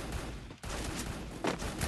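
Bursts of video game gunfire crackle through a short stretch, with a brief drop in the middle and a louder volley near the end, no talking over it.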